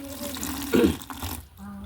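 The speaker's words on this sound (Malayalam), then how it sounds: "ആദ്യം ഒരു ലേശം വെള്ളം ഒഴിക്കുക" A small splash of water is poured into a bucket holding bleaching powder, prepared for chlorinating a well; a single brief gush rises midway through a quiet background with a faint hum.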